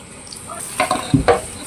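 Hot noodles are tossed with sauce, giving a few quick wet stirring and scraping sounds close up, short and fairly loud, with no talking.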